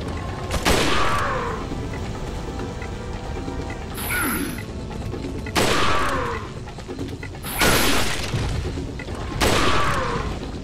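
Spaced gunshots from Resident Evil 4, fired as repeated headshots at one enemy: four loud broadband blasts roughly two seconds apart, each followed by mechanical reload or ratchet clicks, with game ambience between them.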